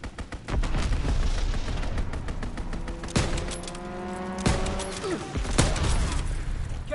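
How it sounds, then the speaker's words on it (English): An enemy aircraft makes a strafing run in a World War II shooter game, producing a steady roar of rapid gunfire and explosions with engine drone and a few sharper blasts standing out across the whole stretch. "Enemy strafing run, inbound."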